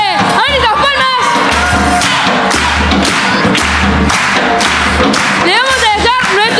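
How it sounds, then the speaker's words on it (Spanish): A live crowd claps along with a small band onstage, rhythmic hand claps and cheers mixing with loud music, low thumping beats and bursts of shouting throughout. "¡Ahorita las palmas!"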